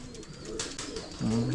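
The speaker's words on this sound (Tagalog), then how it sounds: "ka-farmer Ryan ito yung mga ibon." Pigeons cooing close by, a low throaty coo swelling near the end over quiet background rustle.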